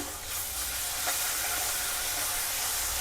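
Homemade ginger-garlic paste fries in a pot for mutton pulao, giving a dense, even hiss of sizzling with a faint stir midway, close and continuous throughout.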